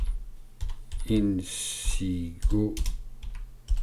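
Computer keyboard typing, a handful of quick key clicks heard close up while someone speaks over them.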